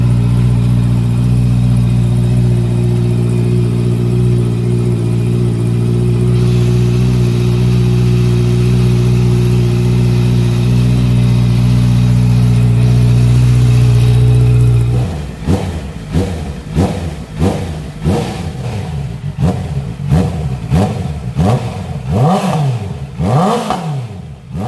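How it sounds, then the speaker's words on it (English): A Honda CBR650F motorcycle fitted with an Akrapovic full-system exhaust idles loudly and steadily up close, then is blipped through a rapid series of sharp revs that rise and fall in quick succession. "Cbr650f is all updated with Akrapovic full system exhaust"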